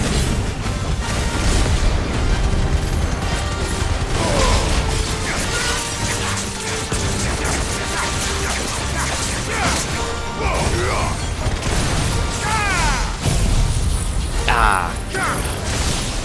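Judgment Bolt attack in Final Fantasy 16, with crackling crashes and booming impacts inside a dense, loud mix of battle effects and music, with sweeping tonal sounds throughout.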